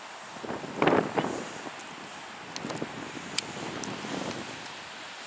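Light northwest wind blowing over a shoreline with small rolling surf, a steady soft rush with gusty buffeting against the microphone.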